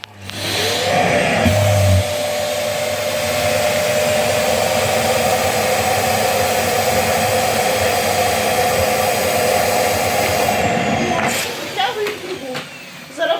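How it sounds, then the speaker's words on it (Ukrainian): A vacuum cleaner roars loudly and steadily at close range for several seconds while vacuum-packing clothes in bags, then switches off and winds down, leaving a few soft knocks. "Включаємо пилосос."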